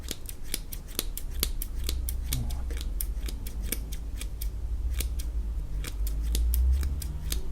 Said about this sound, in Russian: Но можно вот так, по обычными ножницами, вот так вот попытаться повыстрелять.